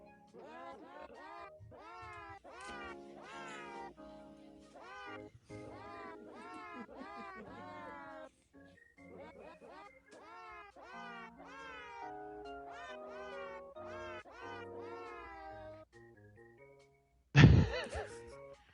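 A TV theme song is performed entirely with cat meow samples, a quick melodic run of pitched meows. A sudden loud thump near the end breaks the tune.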